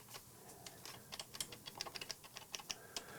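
Buttons on a Sonicware ELZ_1 synthesizer being pressed, a quick irregular run of light, crisp clicks and taps close to the microphone, fairly quiet, with no talking.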